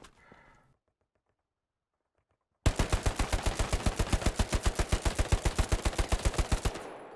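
Automatic fire from a BAR and an STG rifle in the video game Hell Let Loose: a brief faint noise, a silent pause, then one long, loud, evenly paced burst of about thirty close shots.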